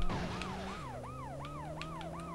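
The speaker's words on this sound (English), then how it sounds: "As long as we've got the sirens, we're all sorted." In the video game World's Scariest Police Chases, a police car siren wails in steady, repeating rising-and-falling sweeps over a low engine drone, continuous and unaccompanied by voices.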